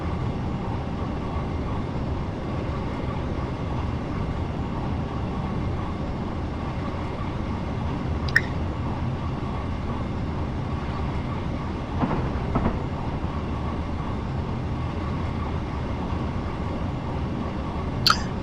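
A passenger train running from Portsmouth to Waterloo, easing down toward 60 mph, makes a continuous rumbling roll with a few sharp clicks and clanks along the way, and no voices.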